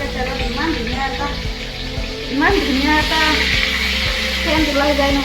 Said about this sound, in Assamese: গৰম মছলাটো কেৰাহীত দিয়াৰ লগে লগে তেলত ইমান ধুনীয়া এটা